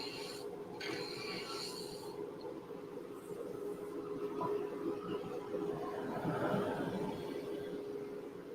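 Abrasive rubbing and rasping against the spinning ends of a turned pen blank on a lathe, a steady close scratchy sound over a constant machine hum and blower noise, with no talk.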